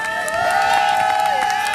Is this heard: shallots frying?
no